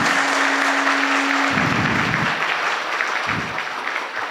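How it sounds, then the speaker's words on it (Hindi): Audience clapping at a religious discourse in Surat, a steady burst of applause that thins and fades toward the end, with a low hum at first. "तालियों की गड़गड़ाहट करें"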